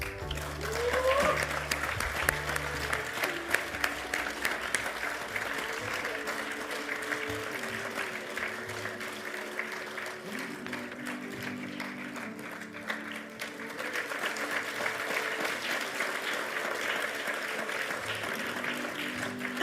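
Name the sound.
audience applause at awards ceremony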